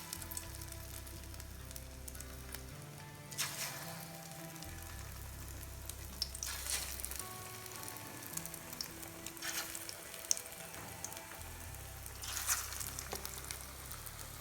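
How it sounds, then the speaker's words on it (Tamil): Squid vadas deep-frying in hot oil give off a steady broadband sizzle with occasional crackles and pops. The frying runs throughout over a low hum, and no one speaks. "எண்ணெய் காஞ்சிச்சு, வடையை போட்டு பொரிச்சு எடுத்துக்கலாம்."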